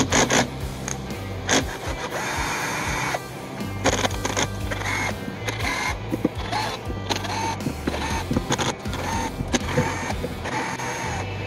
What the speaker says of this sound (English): first we're going to start off by taking all these screws off and removing the pad